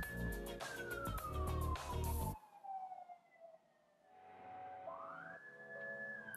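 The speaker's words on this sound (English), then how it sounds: "sorry, ambulance" An ambulance siren passes outside, its wailing tone sliding downward as it goes by under a loud burst of nearby noise, then fading to a faint distant wail before a rising tone returns.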